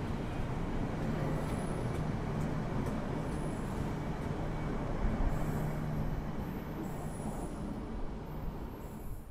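Logawa passenger train pulling out of Jombang station in East Java, a continuous low rumble of rolling wheels and carriages with faint high squeals, heard steadily from on board at moderate level with no talk.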